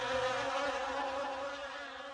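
Angry bees swarm out of a shaken beehive, a dense, continuous buzzing drone that stays close and loud throughout, alone without any voices.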